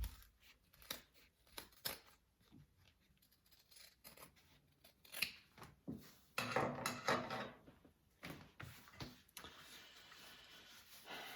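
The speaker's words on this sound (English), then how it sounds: "you will be trimming that seam allowance down to a 1/4 inch" Scissors trim a fabric seam allowance on a sewn wallet with a series of close, crisp snips, irregular at first and then quicker, with light handling rustles between cuts.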